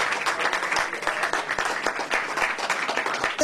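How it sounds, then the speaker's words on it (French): A church congregation at a wedding blessing claps steadily and loudly, a dense continuous wash of applause with faint voices mixed in. "Acclamez très fort pour la gloire du Seigneur."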